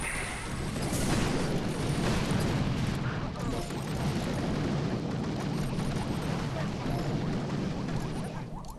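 Artillery barrage explosions in the Boom Beach video game, a rolling series of heavy booms and blasts that overlap into a continuous rumbling roar, loud and dense for several seconds.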